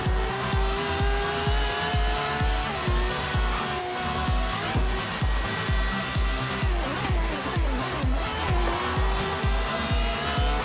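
A Lamborghini engine trails from behind during a Ferrari versus Lamborghini sprint race in a racing video game, a loud, continuous revving roar with gear-shift pulses and pitch swings, music-like tones above, and a voice talking over it.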